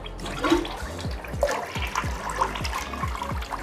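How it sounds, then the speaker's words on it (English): A VitrA toilet cistern flushes at the push of a button, with water rushing and gurgling steadily and fairly close throughout, without talk. "I can actually make it flush just by pressing this button here"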